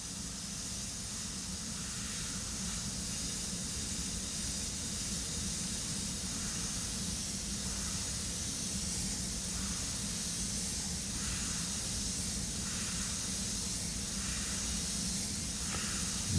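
An airbrush fully open sprays Createx paint thinned with 4021 reducer, giving a steady, unbroken hiss that stays even for the whole stretch.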